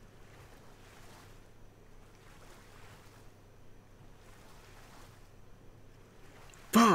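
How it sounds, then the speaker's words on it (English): A character swims through water in Ark Survival Evolved: soft rhythmic sloshing strokes that rise and fall at a steady pace, then a sudden loud burst right at the end. "Swim through this damn fucking water."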